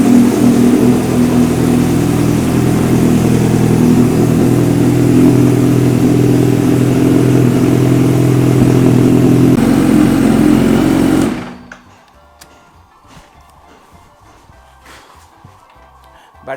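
A motorcycle engine idles loud and close with a steady rumble for about eleven seconds, then cuts off abruptly, leaving quiet room noise with faint clicks.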